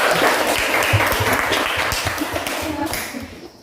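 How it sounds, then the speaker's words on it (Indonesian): A class applauds a student group about to give a presentation in a school classroom, steady dense clapping filling the whole stretch and tapering slightly at the end. "Tepuk tangan untuk kelompok 1."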